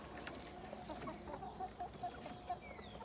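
Backyard chickens let out of their coop to forage, clucking softly and repeatedly over a steady outdoor background, with no one talking.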